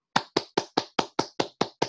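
Nine sharp hand claps ring out at a steady, even pace of roughly four per second, loud and close in an otherwise quiet room, used as a timing signal.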